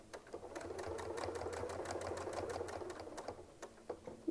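A quilting sewing machine stitches a fancy medallion in a steady run of rapid needle strokes, continuous and close at first, then slowing into a few separate punches near the end.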